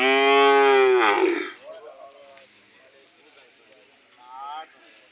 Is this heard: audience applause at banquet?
no